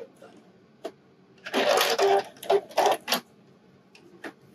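A sewing machine stitches elastic on a wireless bra in short bursts: one quick tap, then a long run forward, a pause, a reverse run, and a final forward run, fairly close, with quiet gaps between.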